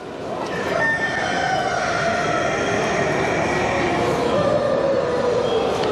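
A rooster crows amid the steady din of a crowded chicken exhibition in Bucharest, the call rising out of a dense wash of clucking birds and hall noise that runs throughout.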